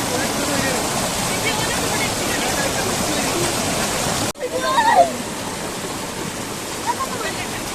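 A flowing stream at a white-tree resort in Wayanad gives steady broadband rushing water throughout, broken by a brief dip midway, with faint bird-like chirps afterward.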